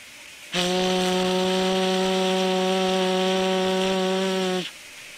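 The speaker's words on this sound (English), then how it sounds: "Sounding of a whistle from a steam locomotive." A loud, sustained steam whistle from an Indian Railways WP class steam locomotive blows a steady, harmonically rich tone for about four seconds, then cuts off abruptly.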